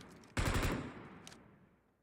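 A short burst of automatic gunfire in the battle royale game BGMI, several rapid shots fired into the ground, loud and close, then a brief later report and fading tail, with no talk.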